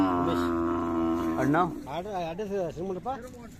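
Khillar cattle at the Siddheshwar fair in Vijapur: a long, close, drawn-out moo at the start, then a voice speaking over the remainder.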